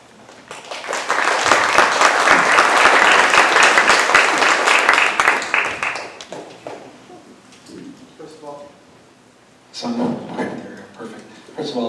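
Workshop audience applauding the presenters, a loud full burst of clapping for about six seconds that fades out, followed by quieter clattering handling noises and a brief return of scattered sound.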